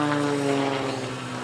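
A propeller aerobatic airplane drones loudly overhead during a routine at the Edwards AFB Aerospace Valley Airshow 2022, its engine tone steady and slowly shifting as it passes.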